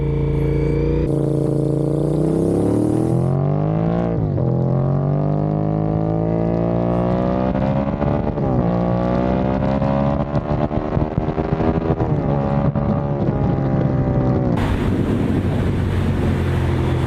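A 23-year-old Castrol Honda SP1 sport motorcycle rides under load with strong engine harmonics rising and falling through gear changes, steady and loud, with wind rush across the microphone throughout.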